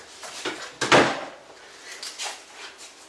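A door on a sailboat being closed, heard as a couple of close, brief knocks and thuds followed by softer rustling handling sounds.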